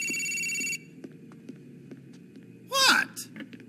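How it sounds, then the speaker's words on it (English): A telephone rings in the GTA 4 video game, a bright electronic trill that cuts off early, followed by quiet background and brief voice-like sounds with a short squeaky burst. "The phone's ringing."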